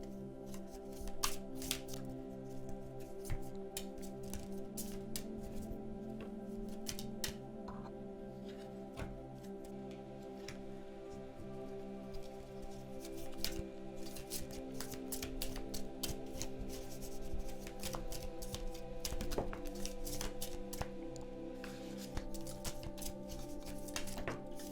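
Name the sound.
shuffling tarot cards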